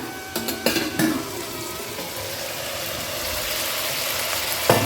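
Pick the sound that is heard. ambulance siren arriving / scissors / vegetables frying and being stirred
vegetables frying and being stirred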